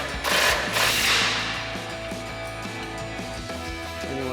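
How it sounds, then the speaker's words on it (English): A 24 mm socket ratchet tightens a control arm nut on a RAM 1500's front suspension, giving a rapid, steady train of metallic pawl clicks after a brief burst of louder handling noise at the start. "We'll grab our 24 millimeter socket, tighten down our nut."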